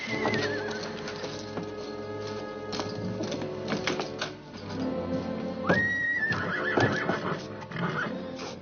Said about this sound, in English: Rider's coming. Better put the horses in the barn.